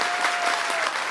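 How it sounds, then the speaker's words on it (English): Loud, dense applause from an audience at an award ceremony honoring Anna Hazare, continuous and even throughout the short stretch. "A round of big applause for Anna ji for accepting our request."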